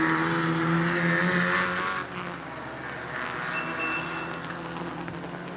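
Volkswagen Ameo race cars lap a circuit, with loud, droning engine notes that shift pitch as they pass, then fade to a more distant, steady hum with a faint whine.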